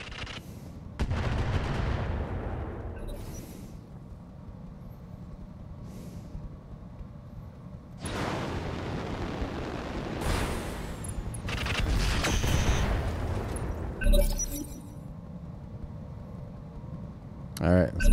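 Heavy weapon fire in the RogueTech video game from an ultra autocannon on a mech, booming bursts and rumbling blasts in several long stretches, with people talking between and over the shots.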